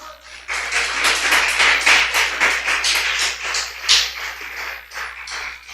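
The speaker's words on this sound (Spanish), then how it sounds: "Dale un fuerte aplauso a nuestro Señor, mis hermanos" A church congregation bursts into applause, a lively, fairly close patter of many hands clapping that swells and stays steady for several seconds.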